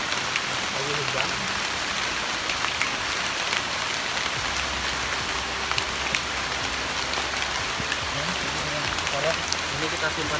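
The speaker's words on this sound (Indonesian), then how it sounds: "sebenarnya posisi ini lagi hujan" Rain pours steadily on surfaces in a durian orchard, a dense, even patter with no break across the whole stretch.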